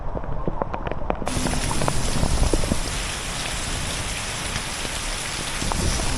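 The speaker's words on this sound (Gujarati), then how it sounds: "વરસાદની ગતિ ધીરે ધીરે વધતી જાય છે." Heavy monsoon rain pours down in Mendarda, Gujarat, India, a dense, steady roar of drops hitting surfaces that swells sharply after the first second and stays loud and continuous.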